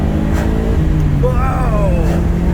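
A classic Subaru Impreza Turbo AWD accelerates hard from the national speed limit, its engine note climbing in pitch under loud road and cabin noise.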